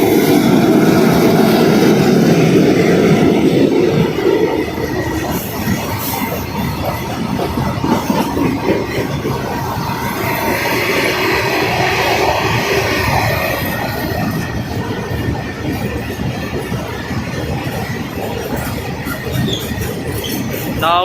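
A very long Indian Railway goods train formed from four coupled freight trains rolls past close by, a loud continuous rumble of wagons with rattling wheels and occasional squeals, heaviest at the start.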